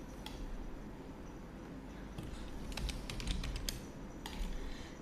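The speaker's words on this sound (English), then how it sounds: "I'm just clicking on Control U." Keys pressed on a computer keyboard while previewing a WordPress post, a few quick clicks and taps spaced across a few seconds, close and fairly faint over steady room noise.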